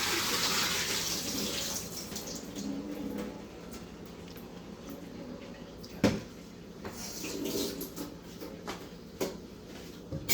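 Water from cooked milkfish (bangus) is poured off into a sink, making a running, splashing gush with a few clanks of a pot or lid along the way, close and moderate in level.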